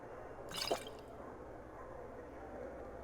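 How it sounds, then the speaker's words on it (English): Spring water splashes and drips briefly as bottles are filled in the Skyrim video game, a short close liquid burst against a quiet ambient background. "Need more water. I'm gonna have to fill my bottles."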